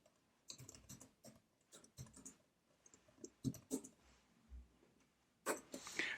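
Keys clatter on a computer keyboard as a command line is typed, in uneven bursts of quiet clicks with brief pauses and a louder flurry of keystrokes near the end.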